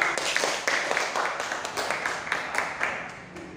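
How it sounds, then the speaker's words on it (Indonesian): A small group of students applauds in a classroom: light, scattered hand clapping with quick irregular claps at moderate volume, with faint voices mixed in beneath. "Tepuk tangan dulu untuk dua orang temannya."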